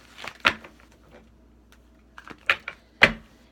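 A deck of oracle cards being shuffled by hand: a few short, crisp riffling slaps in separate bursts, close and fairly quiet, with near silence between them.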